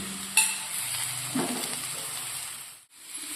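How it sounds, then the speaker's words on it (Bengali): A spoon scrapes and stirs thick mashed potato with paneer and capsicum in a hot pan, with soft sizzling underneath and a brief clink near the start. "আলুটাকে এইভাবে পনিরের সঙ্গে আর ক্যাপসিকামের সঙ্গে মিশিয়ে নেওয়া হবে"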